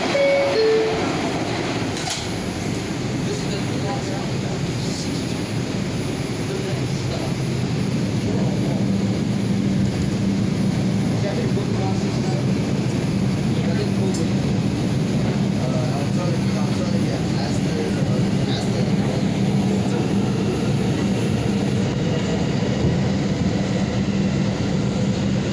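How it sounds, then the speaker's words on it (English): R142 New York subway 6 train pulling out of a station, a steady rumbling roar with a low motor hum rising and sustained over the whole stretch, under faint voices. "This is a Brooklyn Bridge bound 6th train."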